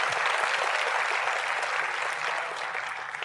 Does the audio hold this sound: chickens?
no